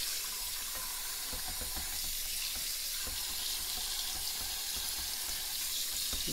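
Warm water runs steadily from a faucet into a pot at a kitchen sink, a continuous close rushing and splashing that lasts the whole stretch with no talking.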